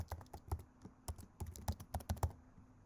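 Fast, uneven keystrokes on a laptop keyboard as an email address is typed in, a dozen or so close clicks in a quick irregular rhythm with no talking.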